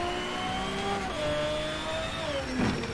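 Race car engine in the Shift 2 racing game revs loudly and steadily, pitch holding high then dropping through a shift before a brief rise near the end, alone without talk.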